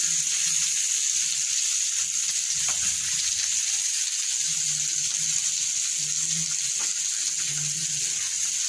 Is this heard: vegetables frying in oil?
yes